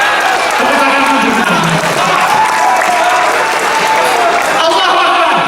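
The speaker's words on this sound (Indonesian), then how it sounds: "Tepuk tangan dulu." Loud, sustained applause with some cheering from a large crowd at the closing ceremony of the KAHMI national coordination meeting, a dense continuous roar of clapping with voices mixed in.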